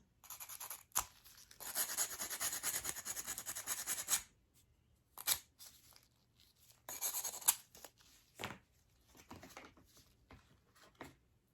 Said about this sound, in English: I should probably roughen up this area too